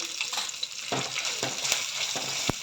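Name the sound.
spices sautéing in hot oil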